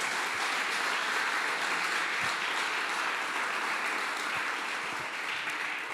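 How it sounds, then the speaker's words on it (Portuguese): A church congregation at a Saturday-morning couples' seminar breaks into sustained applause, a loud, even wash of clapping filling the room for the whole stretch. "Aplauda o Senhor."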